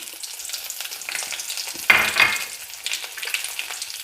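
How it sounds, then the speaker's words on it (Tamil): Ten dried red chillies dropped into hot oil for a raw banana palya: a soft sizzle that flares into a sharp, louder crackle around the midpoint, then settles into lighter frying with occasional stirring. "இப்போது வரமிளகு போட்டுக்கலாம்"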